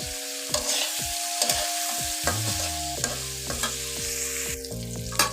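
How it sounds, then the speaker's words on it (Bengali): Onions frying in oil in a pan for a dried mola fish bharta: a steady close sizzle with repeated stirring clanks and scrapes. Bursts of crackle rise and fall throughout, with no voices. "আর এখন আমি এমনভাবে ভাজবো যাতে সবটা পানি শুকিয়ে যায়, তেলটা এটার সাথে মাখানো হয়ে যায়।"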